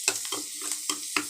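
Turmeric, ginger and garlic paste frying in a pan while being stirred: four or five quick scraping strokes over a soft sizzle, close and brief, without talk.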